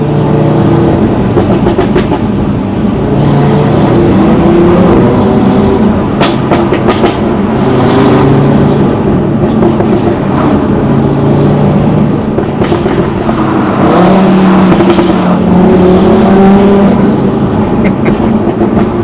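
A VW Golf MK7 with an RS3 conversion and back box delete exhaust drones loudly from inside the cabin, with a constant deep engine roar and scattered overrun crackles and pops.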